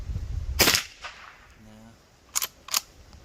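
A Rossi Rio Bravo .22 LR lever-action rifle fires CCI Mini-Mag rounds outdoors, giving one sharp crack followed later by two quick, lighter snaps close together.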